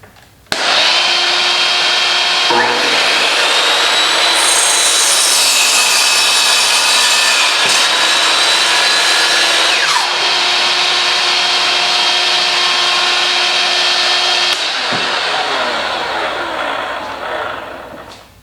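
A power saw cuts through a 2x4 wooden board with a loud, steady high-pitched whine that runs nearly twenty seconds, its pitch dipping briefly as the blade bites, with a vacuum running.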